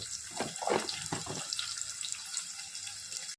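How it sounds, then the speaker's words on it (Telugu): Water runs and splashes in a sink while fish are washed, with a few louder splashes early on, then a steady trickle that cuts off abruptly. "చేపలు కడగటానికి వేడి నీళ్ళు పెట్టాలా?"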